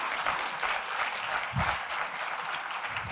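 Audience applause at a Q&A event with a news journalist, a dense steady wash of clapping from a crowd, moderately quiet and continuous, without speech over it.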